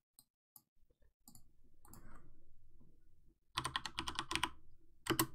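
Quiet bursts of clicking keystrokes on a computer keyboard, typed in short irregular clusters with pauses between, close and faint, no voices.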